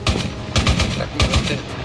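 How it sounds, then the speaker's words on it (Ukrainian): Rapid bursts of gunfire in the video game ARMA Reforger, several sharp shots in quick succession with short pauses between volleys, loud and close. "Я стріляю"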